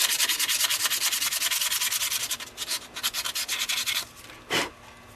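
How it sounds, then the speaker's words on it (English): Rapid, rhythmic back-and-forth sanding strokes on a wooden fingerboard, close and steady, slowing to a few separate rubs before a final swipe. "You do a little bit of sanding."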